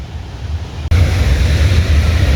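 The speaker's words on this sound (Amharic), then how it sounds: "ፏፏቴውን ላሳያችሁ።" A waterfall swollen after rain gives a loud, continuous broadband roar close to the microphone, with gusty wind buffeting and a brief dropout near the start.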